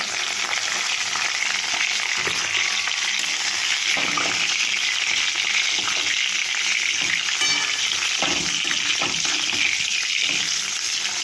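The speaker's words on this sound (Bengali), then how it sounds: "মাছগুলো ভাজা হয়ে গেছে কড়া করে এবার মাছগুলো তুলে নেব" Bhetki fish fry in hot oil in a pan, a loud, continuous sizzle with occasional clinks of a utensil and no speech.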